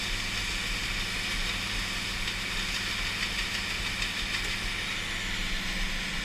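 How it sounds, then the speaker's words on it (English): The auger of an IH 1086 tractor-driven feed grinder runs empty. It makes a steady, loud mechanical drone with a rumbling engine hum and a faint rattling texture, continuous throughout. "we wait to hear the auger bounce around when it's empty"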